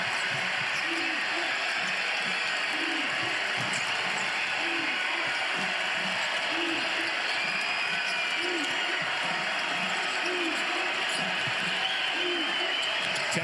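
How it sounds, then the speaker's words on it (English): Women's college basketball crowd at an Illinois home game against Washington roars loudly and steadily through the whole stretch, a dense arena din, while sneaker squeaks, ball bounces and scattered voices come through underneath. "Loudest the crowd's been all game."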